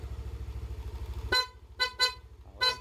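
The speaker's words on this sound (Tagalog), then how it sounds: "busina" Horn of a Yamaha NMAX V1 scooter on a rewired electrical system sounds in three short honks and then a fourth, loud and close over a steady low idle hum.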